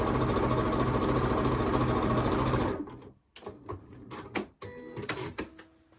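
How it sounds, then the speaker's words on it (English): A sewing machine stitching a quarter-inch seam, running fast with a loud, steady mechanical chatter for about three seconds, then stopping, followed by close handling noises and rustling fabric. "let me go ahead and sew down this 1/4 inch while you're still here with me"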